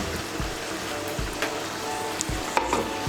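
Cauliflower korma with boiled florets cooks in a pan, a close, continuous sizzle and bubbling with a few soft knocks, no voices.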